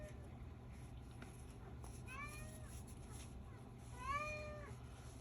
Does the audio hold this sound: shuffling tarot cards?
no